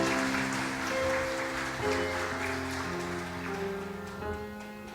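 Sunday worship congregation clapping for the Zion choir, a steady wash of applause throughout with sustained organ or keyboard tones beneath.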